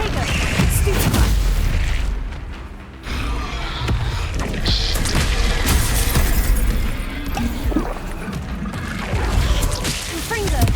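Spell blasts from Confringo and Bombarda in Hogwarts Legacy burst in loud booms and cracks, with whooshing casts and shattering impacts piling up in heavy, continuous combat.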